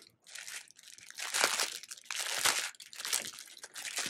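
Plastic packaging bag from a diamond art kit crinkles in bursts of close, crisp rustling over about four seconds, with no voices.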